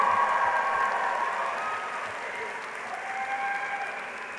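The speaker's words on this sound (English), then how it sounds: "I invite the members of the graduating class to reciprocate by applauding your family, friends, faculty, staff" A graduating class applauds at a university convocation ceremony, sustained clapping filling a large hall and slowly thinning, with a voice faintly heard beneath.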